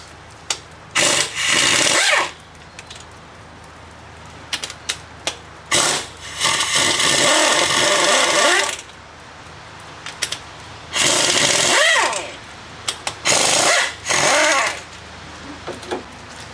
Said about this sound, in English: now we're going to remove the fuel rail bolts